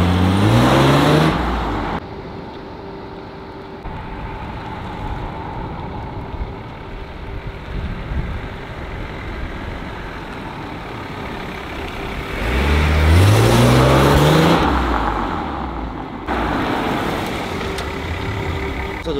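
A Mercedes C36 AMG with a six-cylinder engine circles nearby, its engine note swelling loudly as it passes close, fading to a steady idle-like hum in between, then rising again on a second pass.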